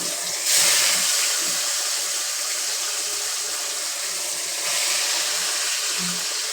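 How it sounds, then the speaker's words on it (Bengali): Fish fries in a pan with a continuous loud sizzling hiss, swelling sharply as the pieces go in at the start and again partway through, with no voices. "তো আবার এরকম মাছ ভাজা ছাড়ছি।"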